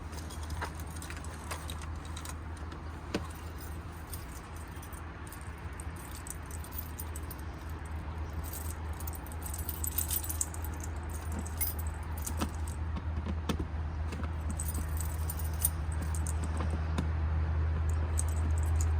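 Keys jangle and clink repeatedly while locking the door of a 2025 Forest River Salem FSX 161QK travel trailer, with a steady low hum running underneath throughout.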